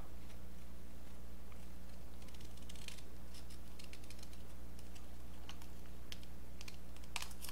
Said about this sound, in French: vous prenez votre ciseau et vous venez couper de l'angle intérieur vers l'angle extérieur